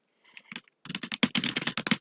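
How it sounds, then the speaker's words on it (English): Rapid, close typing on a computer keyboard in a word processor: a few light taps, then a dense run of crisp keystrokes with no voice. "and I keep typing"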